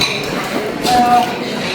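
Light clinks of dishes and glassware ring out at a church sale in America, against a busy indoor background with murmured voices, one brief bright chime standing out near the middle.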